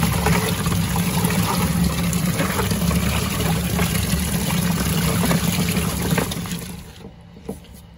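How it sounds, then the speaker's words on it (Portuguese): Water splashes steadily into a Wanke Sally 5kg washing machine drum being rinsed out, a continuous broadband rush with a low motor-like hum that cuts off sharply near the end, leaving near silence. "Filtro não pega nada, joga só uma aguinha assim"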